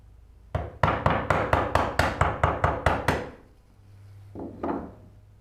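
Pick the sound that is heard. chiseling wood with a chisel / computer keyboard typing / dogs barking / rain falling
chiseling wood with a chisel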